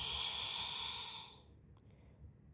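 A single slow, audible exhale through the nose and mouth during a myofascial release exercise on a peanut massage ball, fairly close and soft, fading into quiet breathing.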